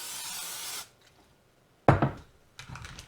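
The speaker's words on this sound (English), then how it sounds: "take some of this vegetable oil spray and spray the inside of my Instant Pot" A short hiss of vegetable oil spray into an Instant Pot's inner pot, then a quiet pause, followed by a brief metallic clatter and rustling close by.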